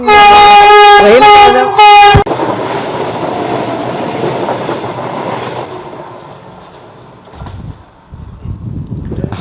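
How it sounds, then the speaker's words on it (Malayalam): A loud train horn blares for about two seconds, then a train rumbles past close by on the track at Ayanthi, Varkala, with rattling wheels, fading gradually. "ട്രെയിൻ"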